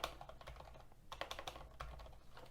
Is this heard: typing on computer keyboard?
yes